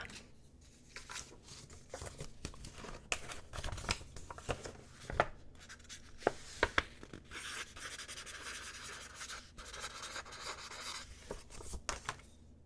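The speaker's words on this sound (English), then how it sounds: "I'll write that down." A pen scratches and rubs softly across paper up close in a hushed, cozy aromatherapy roleplay setting, in short irregular strokes with light rustling between them and no talking.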